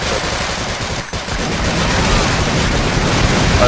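Continuous gunfire in the video game Sven Co-op, a crowded spray of shots that dips briefly then keeps rattling loud and close, with no speech.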